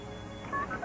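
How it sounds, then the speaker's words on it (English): Telephone keypad tones sound as 911 is dialed, a few short electronic beeps in quick succession over a steady background hum. "I picked up the phone and I dialed 911"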